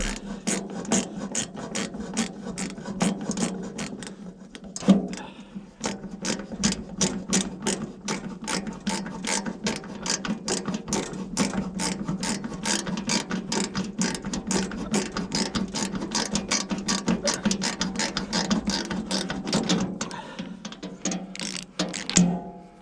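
Rapid, rhythmic ratcheting clicks on a Woodland Mills HM126 sawmill as a threaded part is unscrewed, a dense run of close, loud mechanical ticks with one brief pause partway through and no voices.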